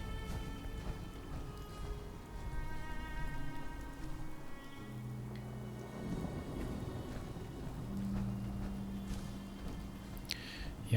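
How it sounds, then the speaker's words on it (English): Steady rain patters in the Fallout 4 game world, a soft continuous hiss of drops with faint low rumbles beneath, heard alone at low level throughout. "Got this rain on the visor."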